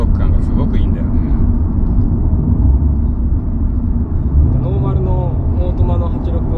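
Toyota 86 pulling hard on a highway as the throttle opens, a steady loud engine and road drone running throughout with people talking over it.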